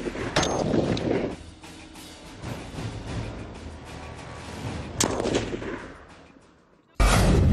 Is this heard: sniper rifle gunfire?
yes